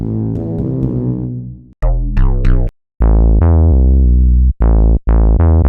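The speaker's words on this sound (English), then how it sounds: "Let's go to analog bass." An analog bass preset from the Absynth 6 synth plays a short phrase of deep, punchy notes, starting with a sustained tone and then moving into staccato plucked hits separated by brief silences, loud and up close.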